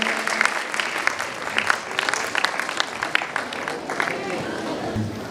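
A church crowd gives loud applause welcoming Pastor Tariq, a steady, close burst of many hands clapping with occasional voices and cheers mixed in.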